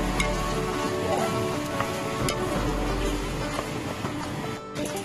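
Pork belly sizzles steadily in a hot pan as it is stirred with pepper and Sprite, a dense continuous crackle with faint scraping throughout.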